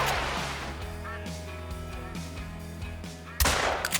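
In a hunting video game set on Revontuli Coast, a level 3 rifle fires a single loud shot at ducks near the end, cutting through steady background game ambience and music.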